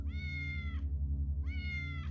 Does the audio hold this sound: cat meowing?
yes